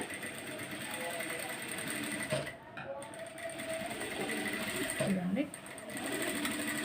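A sewing machine stitches a computer-work blouse neck with a continuous close mechanical hum. A person talks over the stitching throughout.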